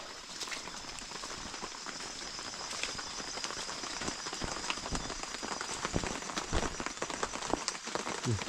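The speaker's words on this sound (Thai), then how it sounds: "ฝนตกทุกคน" Steady rain pattering on a hard surface in a forest, a dense patter of drops with occasional louder splashes, continuous throughout with no voices.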